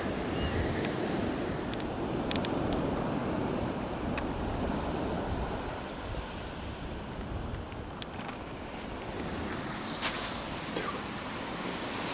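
Ocean surf washing up on a beach makes a steady broad roar that never lets up, mixed with wind buffeting the microphone, and no one speaks.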